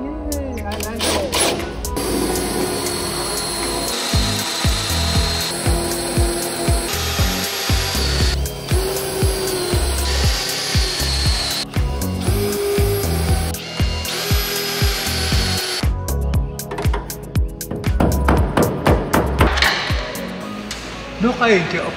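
Power drilling on a unique Opel Kadett GSI being restored on a rotisserie, with repeated loud bursts of a whining drill starting and stopping in rhythmic runs, close up, broken by short pauses and clanks.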